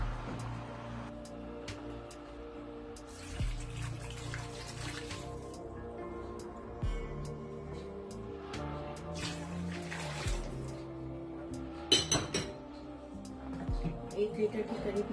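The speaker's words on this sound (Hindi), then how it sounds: "एक लीटर के करीब मैंने इसमें पानी डाला है।" About a litre of lukewarm water is poured into a pot of goat head curry, a soft, close splashing and trickling that runs beneath a quiet kitchen background, with a few sharper drips near the end.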